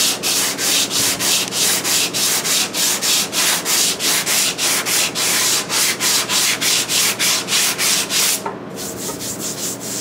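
80 grit sandpaper rubbing rhythmically on a car's rear quarter panel or door during body repair, loud close strokes repeating about twice per second with a brief break near the end.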